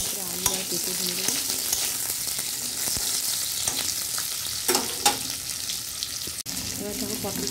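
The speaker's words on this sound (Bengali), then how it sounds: "পটলগুলো একটু হালকা ভাজা হয়ে গেলে তারপরে আলু আর পেঁপে দিয়ে দেবো।" Pointed gourd pieces fry lightly in oil with cumin and bay leaf, a steady close sizzle broken by several scraping stirs of a spatula in the pan.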